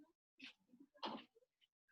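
A single sneeze bursts out in a classroom during an algebra lesson, a short sharp puff followed by quiet, with faint murmurs around it.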